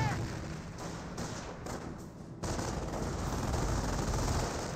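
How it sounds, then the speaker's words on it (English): Machine gun suppressive fire in the World War II strategy game Company of Heroes, a dense sustained roar of rapid gunfire with overlapping shots that swells louder partway through. "Does use suppressive fire there to reduce the support."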